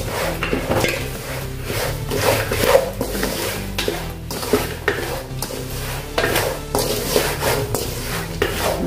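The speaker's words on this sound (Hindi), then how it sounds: "थोड़ा सा इसको हम मसाले को भून लेंगे" Makhana roasting with black salt and Kashmiri chili powder in a pan, stirred continuously with a spoon, giving repeated close scraping and clattering strokes over a low sizzle, with no talk.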